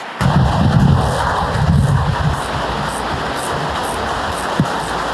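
The engine of a Mitsubishi 3000GT VR4, which has a fuel pressure fault and an air leak, starts with a loud low rumble and then settles into a steady running drone, with no talking.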